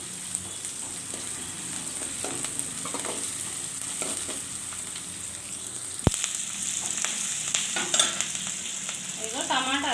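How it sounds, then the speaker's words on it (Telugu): Tempering for a colocasia (taro root) curry sizzles loudly in a hot pan, a dense crackling hiss broken by stirring scrapes and a sharp clatter partway through, with more bursts of spitting toward the end. "చామదుంపలు పులుసు తాలింపు పెడుతున్నానండి."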